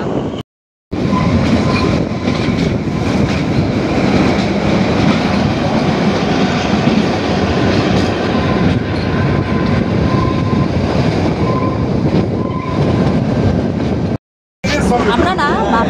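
Kalka–Shimla toy train running along its tracks without stopping at stations, producing a close, steady rumble and rhythmic wheel clatter that continues for most of the stretch, with a brief break near the end.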